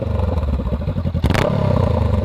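Honda Rebel 500 motorcycle fitted with a Radiant Cycles GP Shorty exhaust, a loud, close, pulsing idle with a quick burst of revs partway through and a throaty rumble after.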